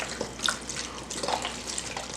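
Water poured from a tap into a cooking pot, a steady soft splashing and trickling with small drip-like accents, fairly quiet and close.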